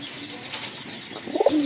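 A short coo from a white fantail pigeon rises near the end, close by, over a low background hum.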